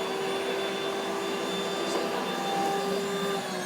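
A Rainbow vacuum cleaner runs steadily and close by, a loud continuous motor whine with a strong steady tone and broadband airflow hiss, unbroken throughout with no talking.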